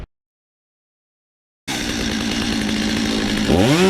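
A gas-powered Stihl MS 250 chainsaw starts up after a stretch of silence and runs loud and close, its steady engine drone rising into a rev near the end.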